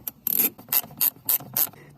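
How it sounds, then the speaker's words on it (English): Ratcheting and rasping from a socket wrench backing out 12mm bolts on an interior bracket of a 2011 Honda CR-Z, heard as five short bursts about a quarter second apart, close by and with no talking. "let's remove these other 12mm bolts to make way"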